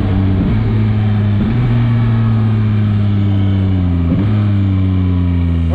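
A 2022 Yamaha MT-09 motorcycle in A2-restricted form revs up by itself without any throttle. The close, steady engine drone rises and falls in pitch three times over a continuous loud idle.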